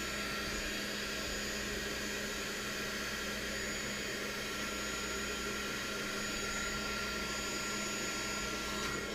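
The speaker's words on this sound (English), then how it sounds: "So I grab my handy dandy little heat gun." A small heat gun blows hot air over solder sections on a quadcopter arm, a continuous, even whooshing roar that holds steady without a break throughout.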